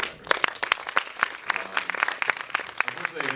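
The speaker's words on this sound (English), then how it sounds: "so we applaud you for the effort" An audience at a festival Q&A with film directors applauds, a dense burst of many hands clapping at a steady level, with voices faintly underneath.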